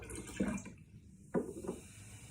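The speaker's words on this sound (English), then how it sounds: "this time I'm going to pour 2 tablespoons of vinegar" Vinegar poured onto rice in baking soda solution, two short splashy pours separated by a pause, close and fairly quiet.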